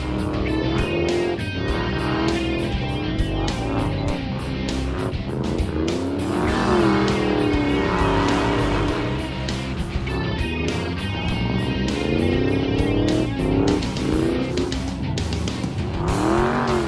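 A project car spins endless donuts on a skid pad, its engine revving hard and tires squealing continuously in a loud, wavering roar from start to finish.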